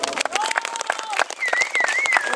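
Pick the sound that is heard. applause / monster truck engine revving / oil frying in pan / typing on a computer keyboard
applause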